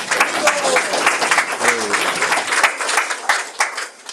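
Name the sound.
audience applause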